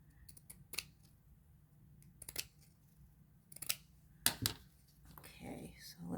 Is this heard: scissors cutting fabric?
yes